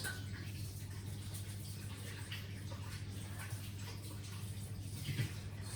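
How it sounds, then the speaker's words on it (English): Hands being washed under a running kitchen tap while baking cinnamon cookies, a faint, steady rush of water over a low hum that continues without a break. "I'll just quickly wash my hands here."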